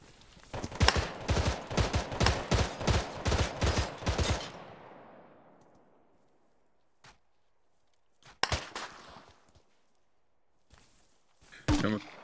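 Rapid burst of automatic gunfire, a dense string of sharp cracks for several seconds, fading into a long echoing tail, then scattered single shots and a heavier distant blast later.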